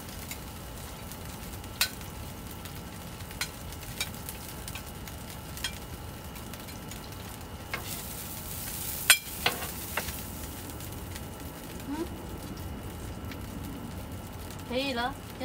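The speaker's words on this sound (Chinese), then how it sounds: "鱼很酥啊，一煎熟了全部都散开" Deep-sea fish cooks on an iron griddle with a soft, steady sizzle, broken by sharp taps and scrapes of a utensil against the metal, with a voice speaking at times.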